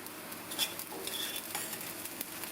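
Soft, continuous scraping and rustling of flattened rice being stirred as it roasts in a hot pan, with a faint sizzle underneath.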